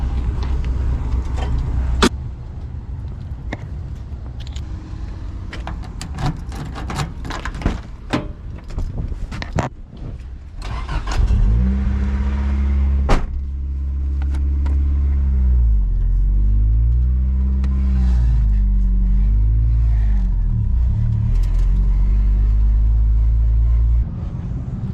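Inside a Nissan 240SX at a junkyard, clunks and door thuds start the sequence, then the engine rumbles low and close as the car is driven slowly, with revs rising and falling as it maneuvers into position.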